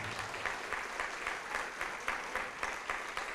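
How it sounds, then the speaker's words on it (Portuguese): Church congregation applauding together during a Portuguese-language worship service, a steady dense wash of clapping with rhythmic surges, moderately loud and continuous with no talking over it. "vamos aplaudir mais ao nome do Senhor"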